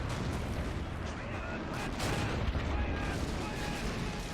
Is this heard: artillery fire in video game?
yes